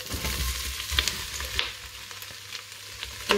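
Red cabbage dropped onto onion frying in a pan, a close, steady sizzle with a few sharp clatters and stirring scrapes, no talking.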